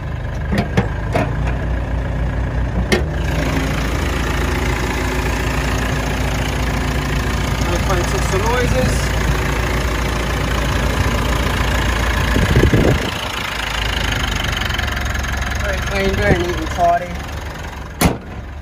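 A 2017 Mitsubishi Pajero Sport Exceed idles with the bonnet open, a steady low engine drone heard close up, with a few clicks and knocks and some faint voices over it.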